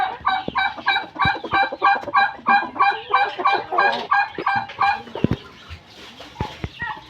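Adult egg-laying Silkie chickens clucking close by, a rapid rhythmic run of loud honking clucks for about five seconds, then fainter scattered calls and rustling.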